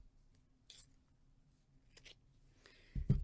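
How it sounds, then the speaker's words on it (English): Scissors snipping crochet yarn: a few quiet separate snips in near silence, ending with a louder close rub and cut. "now I'm going to cut my yarn"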